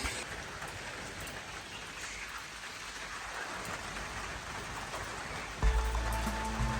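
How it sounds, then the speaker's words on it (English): Steady rain falls outdoors in a continuous soft hiss and patter, even and fairly close, with a louder rumbling surge near the end. "It's raining again. It's never gonna stop."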